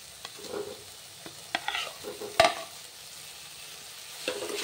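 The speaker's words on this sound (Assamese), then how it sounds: "আলুখিনি ভাজি ল'ম।" Potatoes fry in a pan with a soft, low sizzle, broken by scattered scraping stirs and one sharp clack from a spatula hitting the metal.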